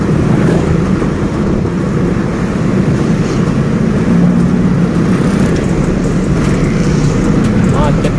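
Heavy city traffic stuck in a jam produces a loud, constant engine rumble and road roar, steady throughout, with wind buffeting the microphone and a voice talking over it.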